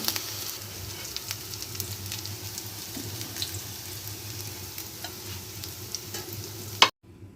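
Potato kababs frying in a pan, a low steady sizzle with light scraping and clinks, close and continuous, cutting off abruptly at the end.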